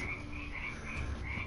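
A backyard full of bullfrogs keeps up a continuous croaking chorus, overlapping calls rising and falling in a steady rhythm, fairly loud and free of speech.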